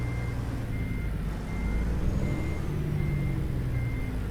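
A truck's reversing alarm in American Truck Simulator beeps at a steady, regular pace over a loud, low engine rumble, with no talk.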